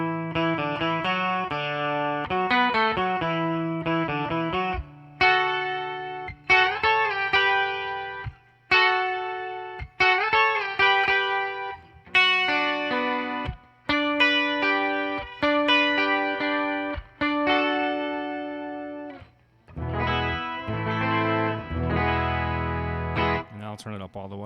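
Guitar through a Digitech Mosaic effects pedal, bright shimmering chords and arpeggiated notes with a doubled, chorus-like sheen, rung out in phrases with brief gaps, played alone and moderately loud.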